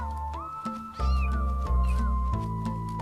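A three-week-old domestic kitten meows repeatedly, a series of close, clear, rising and falling high cries following one after another with no other sounds around them.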